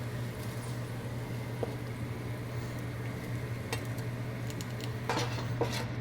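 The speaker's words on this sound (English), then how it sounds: "You want to scrape every last bit of flavor that's on this pan." A metal utensil scrapes and clinks against a pan to loosen browned bits left from cooking beef, producing soft intermittent scratches and a few sharper knocks over a low steady hum, with no talking.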